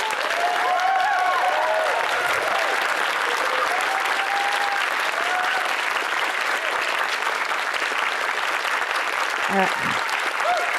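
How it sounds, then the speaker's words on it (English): An audience applauds a choir at a secular solstice gathering in Berkeley, loud dense clapping that continues steadily throughout, with a few vocal calls and a brief spoken remark from a voice near the end. "we'll have a round of applause for choir"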